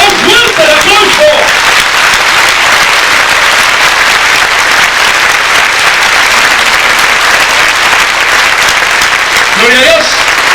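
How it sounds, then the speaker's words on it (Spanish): A large crowd applauds loudly and steadily for about ten seconds at a religious retreat, with a voice briefly heard at the start and end. "si ese aplauso es para Dios, debe de ser más fuerte el aplauso"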